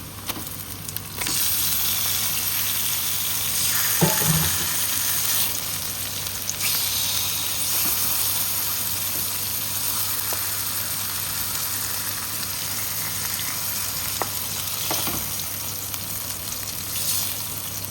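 Fish added to a pan of lightly fried onion and garlic sizzle steadily and loudly at close range, with occasional clinks and stirring, and no one talking.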